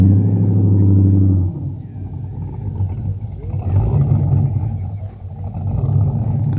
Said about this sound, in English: Let's listen to that V8.